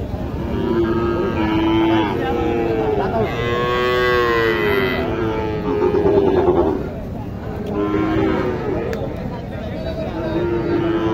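Cattle, including Sahiwal bulls and calves, low in long, loud moos at the Mataji cattle market in Naogaon, with crowd voices and distant vehicle horns mixed in.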